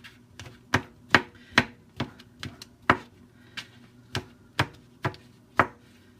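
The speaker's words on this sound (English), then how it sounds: "I'm just going to give these a rough chop" A knife roughly chops food on a cutting board before frying, giving a dozen or so crisp, close knocks at an uneven, fairly quick pace with no talk.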